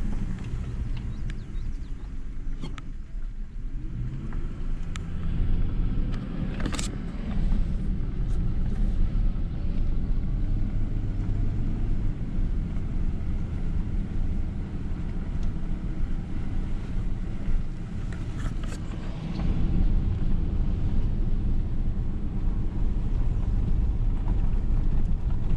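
A car driving along a road near a marsh on Hecla Island, a steady low rumble of engine and tyres throughout, with occasional faint clicks and knocks.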